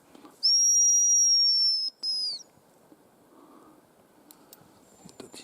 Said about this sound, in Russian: Пересвистываются, ребята, рябчики.